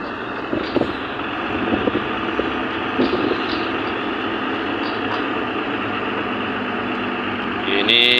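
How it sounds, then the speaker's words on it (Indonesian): Coal-hauling trucks rumble past at an Indonesian mining and power-plant construction site, a steady broadband engine and road roar with wind buffeting the microphone, growing louder near the end as a vehicle passes close. "Itu hauling batu bara ya teman-teman."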